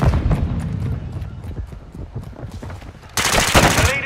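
Gunfire in Call of Duty: Modern Warfare II, with dense rapid shots and booms throughout and a loud, bright burst of fire in the last second, all heard without talk.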